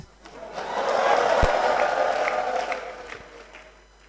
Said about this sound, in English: He deserves not just a round of applause, but a shout.